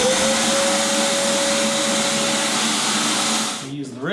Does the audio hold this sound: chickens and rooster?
no